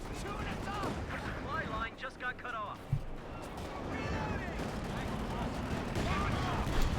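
Bursts of machine gun fire and explosions ring out in Company of Heroes 2, Wehrmacht versus US Forces, sounding under near-constant commentary with rattling shots and booms scattered throughout.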